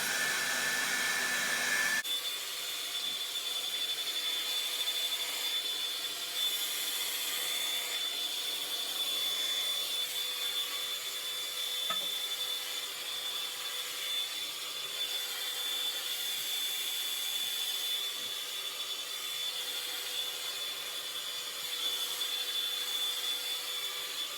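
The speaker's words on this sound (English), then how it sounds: "let's start by blow drying. On a high heat. Really going at the roots." A hair dryer on high heat blows steadily at the roots of short, fine hair in a long bob, a constant loud whooshing hum that runs close and unbroken throughout.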